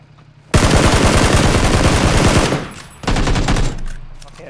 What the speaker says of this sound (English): I just wanna shoot someone with that gun shot.